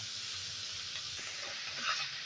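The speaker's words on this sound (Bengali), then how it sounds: "ভালো করে নেড়ে চেড়ে ভেজে নেবো কপিটা" Cauliflower florets stir-fried in a hot pan, a steady close sizzle with soft scraping stirs throughout, swelling slightly near the end.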